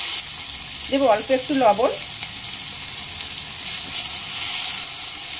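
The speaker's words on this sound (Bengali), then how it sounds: "মিডিয়াম ফ্লেমে 2 মিনিট টমেটো কষিয়ে নেওয়ার পর" Chopped tomatoes and green chillies sauté in a pan on medium flame for arhar dal, a steady close sizzle running throughout while someone speaks briefly near the start.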